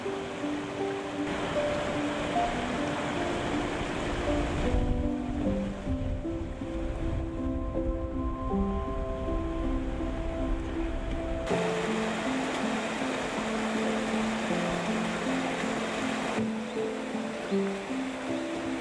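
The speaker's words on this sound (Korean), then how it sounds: "맑은 계곡물 소리와 함께하니 마음도 어느새 맑고 또렷해지는 듯합니다" A clear mountain stream in Hwaeom Valley, Jirisan National Park, in winter among snow and icicles: steady rushing water throughout, with soft sustained background music layered over it.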